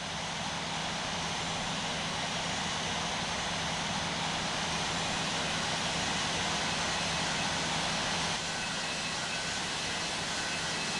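Boeing 747-200 airliner taxiing in the Infinite Flight simulator, a steady broadband jet engine roar with a low hum, continuous and fairly loud throughout, with no voices.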